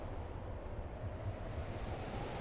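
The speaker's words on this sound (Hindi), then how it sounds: "सागर की लहरों का स्वर" Sea waves wash in a steady, rumbling surf roar that stays close and constant throughout, with wind buffeting underneath and no voices.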